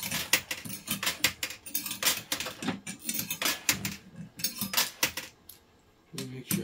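Metallic coins clink and jangle in quick, irregular bursts as they drop into a pan on a casino coin pusher, close and busy, pausing briefly near the end.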